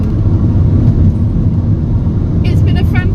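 Steady low car-engine drone and road rumble inside a vehicle on the drive home from a camping weekend, continuous and fairly loud throughout, with a few brief higher clicks near the end.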